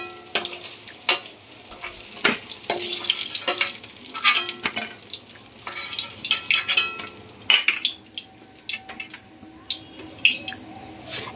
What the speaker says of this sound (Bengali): বেগুনটা তেলে দিয়ে বেগুনটা ভাজা হয়ে গেছে